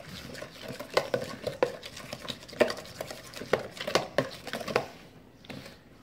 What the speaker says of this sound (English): let's get that all nice and stirred and mixed